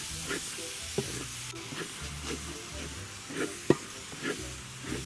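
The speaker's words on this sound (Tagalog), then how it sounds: "Tsaka natin siya hahaluin para ma-prito." Chaofan fried rice sizzles and hisses in hot oil in a large wok while a utensil stirs and scrapes the pan, with a few sharp clinks along the way.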